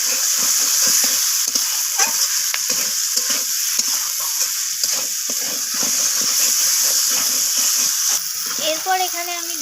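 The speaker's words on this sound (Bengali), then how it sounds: "মটরশুঁটি আলু সব কিছু ভালোভাবে এইভাবে কষিয়ে নিতে হবে।" Peas and potatoes with two green chilies sautéing in a pan for an egg and potato curry, a steady broad sizzle with scraping stirring strokes throughout, close and loud; faint voice-like tones near the end.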